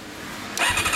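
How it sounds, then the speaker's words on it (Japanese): A 1999 Kawasaki ZRX400 II with a BEET muffler bursts into a loud, close engine roar halfway through, after a quieter start. "ほんならエンジン音聞かせてもらえますか。"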